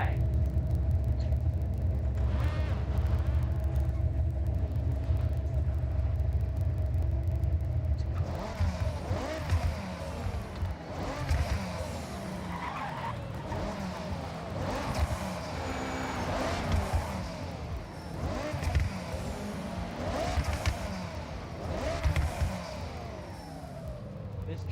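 A Lexus LFA supercar engine runs loud and close, a steady idle giving way to revs that rise and fall in repeated bursts, with a deep rumble underneath.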